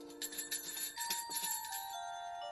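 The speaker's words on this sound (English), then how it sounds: "there was a tinkling and jingling of sleigh bells" Sleigh bells tinkle and jingle in a bright cluster of shaken rings, followed by several sustained chiming tones that ring on and slowly fade.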